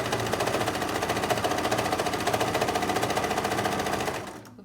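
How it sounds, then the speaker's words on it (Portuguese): A sewing machine stitches fabric for a kitchen piece in a fast, even mechanical rhythm, loud and close, running alone for about four seconds before stopping abruptly. "Vou costurar um pouquinho."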